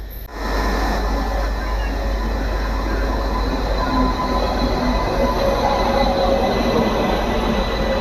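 An Indian passenger express train rumbles past close by, a continuous loud roar of wheels on track with faint squealing, sustained the whole time.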